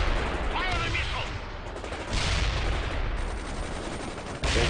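Battlefield gunfire in the World in Conflict strategy game, a dense continuous fusillade of rifle and machine-gun shots with artillery rumble, steady and fairly loud.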